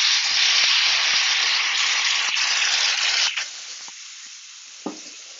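White wine and capers hit a hot pan with a loud, bright sizzle that hisses steadily for several seconds, then quickly dies down to a faint simmer with a small clink.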